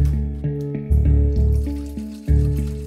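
Water runs from a kitchen faucet in a Flint, Michigan home, a loud steady stream with gurgling surges and low filling tones as it pours.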